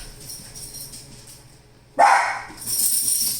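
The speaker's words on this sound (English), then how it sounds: "So that's what my dog was barking at." A single loud dog bark bursts out after a quiet stretch, followed by a sustained higher yelp or whine; close by, no talking.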